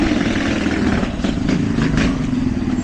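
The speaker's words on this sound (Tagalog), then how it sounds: "Yung lakas ng mga motor dito." Loud, steady motorcycle engines running near a steep uphill road, a continuous rough drone with a strong low rumble throughout.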